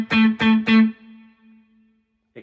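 Three hard-picked guitar notes through a Boss GT-1000 with distortion and reverb, each loud and sharply attacked, then a single sustained tone decaying over about a second before a brief faint tail.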